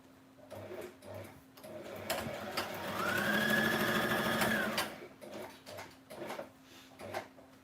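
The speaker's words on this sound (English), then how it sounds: "I'm just going to add just some random stitching here and there" Sewing machine adding random stitching on a grungy journal page, running in a continuous burst of several seconds with a rising whine in the middle, close and fairly quiet, with light handling clicks before and after.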